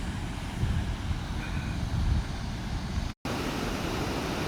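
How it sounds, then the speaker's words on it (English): A backyard riverside waterfall roaring as a steady, dense broadband rush with no let-up, with one brief dropout near the end. "You can hear a nice roaring waterfall."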